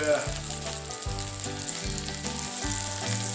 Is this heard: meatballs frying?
yes